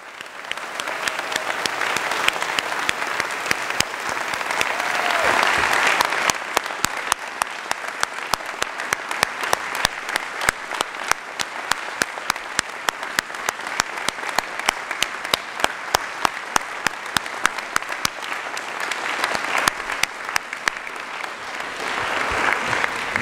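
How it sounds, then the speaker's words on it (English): At a Wayne State University fall convocation, an audience gives new students a long, steady round of dense clapping that swells early, then settles into a sustained, rhythmic patter. "Everybody join me in applauding."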